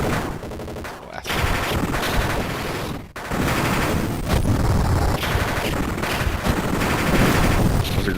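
Loud, sustained gunfire rattles in the video game General Chaos, rapid automatic bursts overlapping almost continuously, with two brief dips in intensity.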